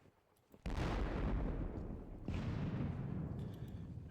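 Howitzer artillery fires in a wargame, two heavy booms with long rumbling decays, the second following about a second and a half after the first, with no talking.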